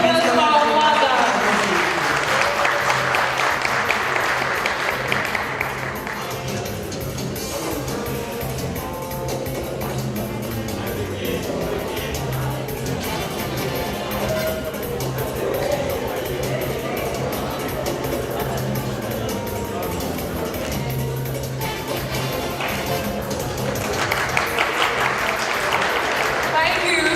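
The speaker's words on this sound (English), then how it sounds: "A round of applause for our father." Applause at a student community dinner party, sustained clapping from the gathered guests with a louder burst at the start and again near the end, mixed with crowd noise and people talking, over a room ambience.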